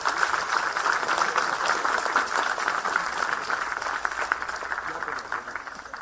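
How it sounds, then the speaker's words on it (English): An audience at an academic session for medical students gives steady, dense applause that continues throughout and fades slightly toward the end. "Let's all clap for them and encourage them for the bright future."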